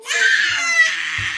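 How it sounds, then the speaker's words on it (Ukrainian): A child cries and screams in a short, high, wailing burst close to the listener, sustained and strained, with a faint low thump at the end. "Чого кричиш?"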